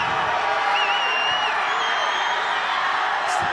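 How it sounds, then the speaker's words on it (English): A crowd of Waianae Sea Riders fans cheering at a 1995 high school JV football championship against Kahuku, a dense, loud, continuous roar with a whistle-like tone rising above it. "You see the Waianae Sea Riders beginning to cheer as the clock is down to 2-1"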